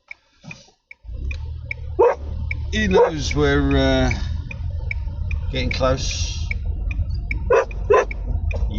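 A dog barks and whimpers repeatedly inside a moving car, loud and close over steady road rumble, with a person talking between and over the barks.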